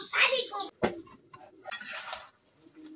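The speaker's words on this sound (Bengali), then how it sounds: "এখন আমি কড়াইটা চুলার মধ্যে বয়ে দিতেছি।" A metal wok set down on a village stove gives a sharp clatter of cookware, followed by lighter scraping and knocks up close, with faint voices in the background.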